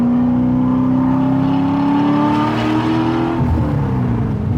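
LS-swapped Porsche 911 with a custom Fluid MotorUnion exhaust, revving close and loud, pitch rising steadily before dropping off sharply near the end.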